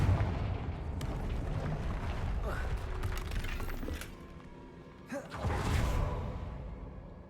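Explosive Confringo spell blasts in a Harry Potter video game, set during a troll fight, with loud booming bursts, crackling debris and whooshes layered over a dense, rumbling game soundscape.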